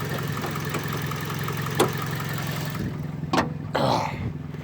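A Toyota car engine idling, a steady low mechanical hum with a faint rhythmic pulse, close by, broken by a couple of brief sharp knocks or clicks near the end; no talking.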